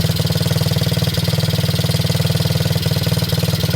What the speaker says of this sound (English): it seems like it wants to run. It's off choke right now.